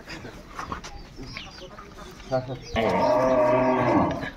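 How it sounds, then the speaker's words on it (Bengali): Sahiwal bull calves moo loudly and close by, a sustained bellowing call rising in the final second and a half after a stretch of quieter farmyard noise with faint bird clucks. "আমরা দেখি একটু গরুগুলা সুন্দরভাবে"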